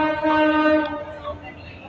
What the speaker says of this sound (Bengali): এখানে আমার পাশেই ট্রেন, মানে রেল লাইন, তো ট্রেন যাচ্ছে